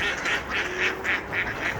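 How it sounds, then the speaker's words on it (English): Ducks quack in a rhythmic run of about six calls, fairly close and steady, over a constant background hiss. "Do you hear all this quacking?"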